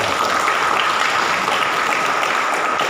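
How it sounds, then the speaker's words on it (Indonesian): Audience applause at a university ceremony sending off about 2,000 students for community service, a steady, even wash of clapping from a large crowd with no talk. "mari kita berikan tepuk tangan yang meriah"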